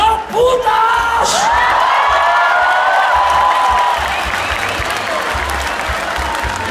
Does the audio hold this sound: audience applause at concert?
yes